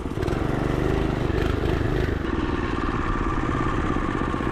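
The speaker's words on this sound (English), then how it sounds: "Now we're gonna try to off-road the shifter cart." A 212cc shifter kart engine with a Coleman B200R torque converter revs hard while driving off-road, a loud, close, rattly motor drone that stays steady throughout.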